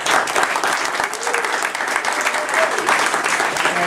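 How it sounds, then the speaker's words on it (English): Sustained applause from an audience at an October 2018 candidate debate for Register of Deeds, Southern Essex District, a steady dense clatter of many hands clapping filling the room with no break. "have one more round of applause for the candidates."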